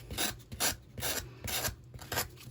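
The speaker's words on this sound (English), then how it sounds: "if you go in with a sanding block or an emery board" A sanding block or emery board files the edges of cut paper in about five quick rhythmic rasping strokes, each one near and clear with nothing else heard.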